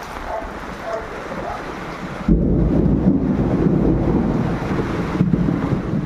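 A thunderstorm with heavy rain and lightning: a steady wash of rain and wind gives way midway to a loud, deep, rolling thunder rumble that lingers to the end, with no voices.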